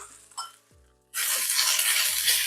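Sliced pork strips, cilantro and green onions hitting a hot pan, a quiet start with a few faint knocks and then a sudden loud, dense sizzle that holds steady for the rest, close up.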